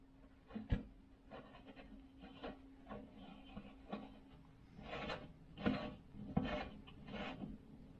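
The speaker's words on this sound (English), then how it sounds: "Petcock being installed back into the fuel tank." A petcock is threaded by hand into the fuel tank of a small mini-generator, giving quiet, scraping and ticking turns with a few sharper clicks, close up over a low steady hum.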